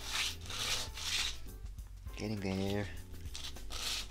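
Sandpaper rubs in steady back-and-forth strokes over a small painted part of a wooden electromechanical clock, a close, rasping hiss that pauses briefly while someone speaks a couple of words.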